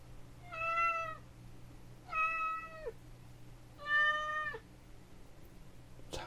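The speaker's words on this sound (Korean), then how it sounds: "고양이." Three clear cat meows added as an editing sound effect, each about a second long and evenly spaced, loud and close, with a steady low hum underneath and no talking.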